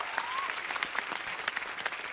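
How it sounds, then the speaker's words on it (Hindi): A television studio audience claps steadily at a comedy show, dense, even applause at moderate volume with no clear break. "जोरदार तालियां।"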